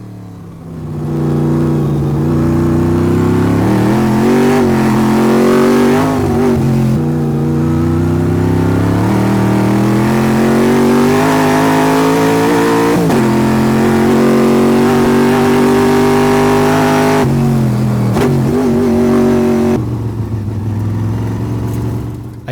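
A race car engine on a hill climb run toward Mt. Washington revs hard and continuously, rising and falling through gear changes with brief lifts, loud and close throughout.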